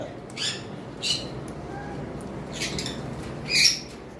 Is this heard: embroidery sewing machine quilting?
no